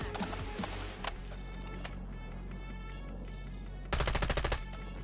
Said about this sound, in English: Shooting through the smoke.